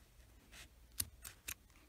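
Scissors snip crochet yarn on a small amigurumi snowman ornament, giving a few quiet, sharp clicks spaced about a quarter second apart, close and faint, with no talk.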